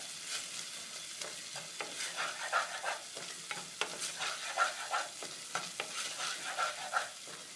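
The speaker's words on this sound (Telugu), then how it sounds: "ఇలా కలుపుతూనే ఉండాలి దీన్ని." Fish curry being stirred in a frying pan, with a soft sizzle and repeated scraping strokes of a spoon at an uneven rhythm, fairly quiet and close, no talking.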